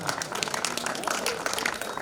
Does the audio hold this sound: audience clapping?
yes